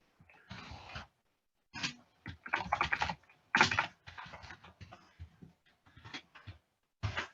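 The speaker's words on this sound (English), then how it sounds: "So if I start to type in here," Keys clack on a computer keyboard in short bursts of rapid typing, separated by brief pauses, close and clear with no voices.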